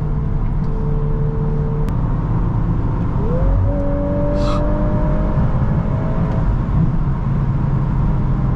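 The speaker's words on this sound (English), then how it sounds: "Excellent acceleration from this powertrain." A 2024 VW Golf R with a DSG dual-clutch gearbox accelerates hard, its engine drone climbing steadily in pitch with a shift partway through, heard close and loud from inside the cabin.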